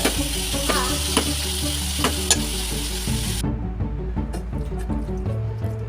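Tomatoes, brinjal and green chillies cook in oil in a pan, a loud continuous sizzle close by, with occasional stirring clatter, while tonal background music plays underneath.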